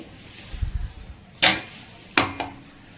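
Spoon scrapes and clinks in a pan as tamarind is stirred into tomato pickle: a soft low stir, then two sharp metallic strikes, close and clear with no talk.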